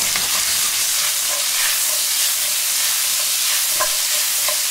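Fried potatoes sizzle in a pan while they are tossed and stirred, making a dense, even hiss with light scraping knocks now and then, close and without voices.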